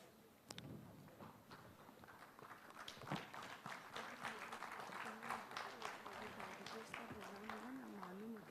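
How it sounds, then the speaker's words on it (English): Audience applause at a medical lecture on gut health, a steady, fairly faint wash of clapping that runs throughout, with a voice speaking over it toward the end. "With a huge round of applause."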